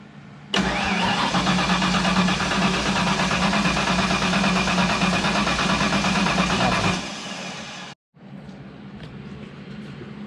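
A turbocharged car engine cranks and catches with a loud, steady engine roar for about six seconds, then drops to a quieter running sound, cuts out briefly and resumes at a lower level.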